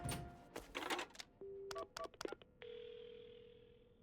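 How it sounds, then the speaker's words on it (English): Telephone in a horror video game being dialed to call an ambulance: a quick series of short keypad beeps and clicks, then a steady ringing or dial tone that holds to the end, moderately quiet with no talk. "Right, the phone. I've got to call an ambulance."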